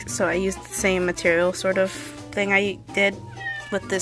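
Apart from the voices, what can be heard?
cat meowing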